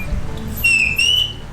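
A shrill, steady jade dog whistle tone sounds twice in quick succession over low background rumble, close and fairly loud.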